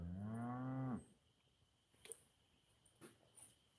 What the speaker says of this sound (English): Bull's bellering